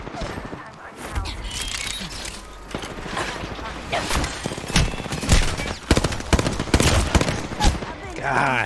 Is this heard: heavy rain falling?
no